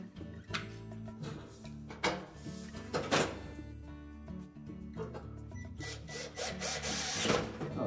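Screws are fitted back into a Whirlpool range during a broil element replacement. Faint, irregular metallic clicks and clatter of handling and driving screws sit over a low background hum.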